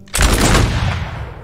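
A regiment's musket volley in a Roblox game goes off as one loud, near burst of overlapping shots that begins abruptly and trails into a fading rumble, with no voices.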